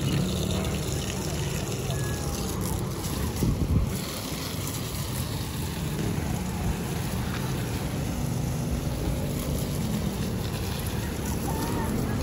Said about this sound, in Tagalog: Yan ang hangin, oh.